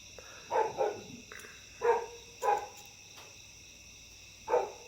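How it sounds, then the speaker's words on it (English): A female dog barks in short, sharp bursts, some doubled, spaced irregularly and heard from a moderate distance over a faint steady hum, with no talking. "one of my females is barking at this very moment."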